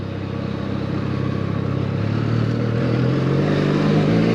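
Benelli Leoncino 500 motorcycle fitted with an aftermarket exhaust accelerating, its engine note building steadily louder and rising in pitch as it pulls, close and continuous with no talk.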